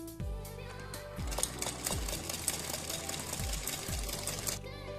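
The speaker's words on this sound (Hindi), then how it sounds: "इस पर हम सिलाई लगा देते हैं" A sewing machine stitches a strip onto a blouse puff sleeve, its needle running in fast, even bursts with brief pauses and low thumps as the fabric is repositioned, loud and close.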